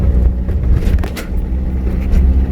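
A car rolls over a rough road, with a loud, steady low rumble of engine and tires and occasional bumps and jolts throughout.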